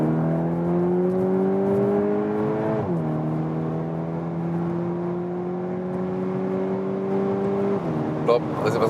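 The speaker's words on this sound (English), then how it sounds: "Now we shift down ourselves, and then we can even have spontaneous acceleration." A 2023 VW T-Roc R facelift, a 300 hp SUV, accelerates hard with its engine note climbing steadily, dropping sharply at a shift, then rising again in one loud sustained run up to a second shift.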